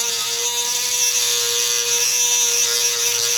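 A rotary grinding tool ports the intake manifold of a Chevy Cruze 1.4L, a loud high-pitched continuous whine with a steady tone and no pauses, close up and without voices.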